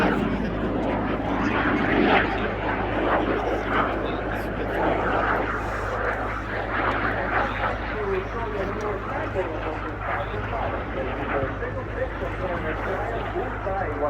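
Frecce Tricolori jets fly a display at RAF Fairford during RIAT 2025. A steady, distant engine roar carries throughout, with a voice heard over it.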